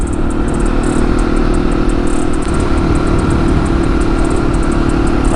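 A 701 Supermoto motorcycle engine, throttle chopped, runs steady and loud and close, with a small dip midway, while strong wind buffets across an open field.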